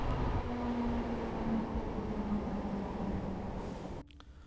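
A Southern Class 313 electric train, Britain's oldest electric unit, pulls in on a Seaford service: a continuous loud rumble with a faint whining tone overhead, cut short near the end as the sound drops away sharply.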